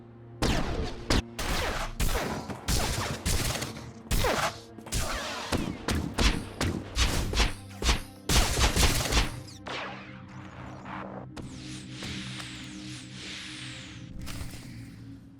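Rapid blaster fire crackles through a Star Wars: The Old Republic firefight, dense bursts of sharp shots for most of the stretch, thinning later into scattered zaps over a steady energy hum.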